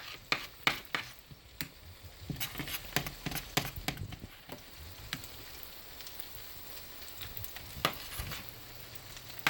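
A spoon scrapes and taps in a pot as butter or margarine is stirred into Southern Mississippi-style grits, with soft wet stirring and irregular close knocks over a faint sizzling background.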